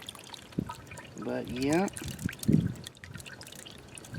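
Water trickling and dripping in an upcycled bird bath fountain, a soft continuous splash running underneath a person talking throughout, fairly faint in the background.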